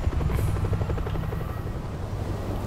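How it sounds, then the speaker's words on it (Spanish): A military helicopter in the video game World War Z thrums steadily with a fast rotor chop and a low engine drone, loud and close throughout, without any talk over it. "Los militares están aquí, se llevan el helicóptero."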